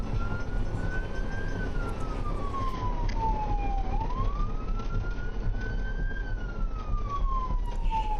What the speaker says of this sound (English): just verifying you're hearing the siren right now